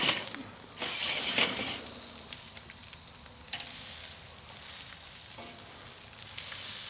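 Filet steaks sizzling on a Weber kettle grill set up with a Slow 'N Sear just after being flipped, a steady crackling sizzle with a louder burst early on, no talking.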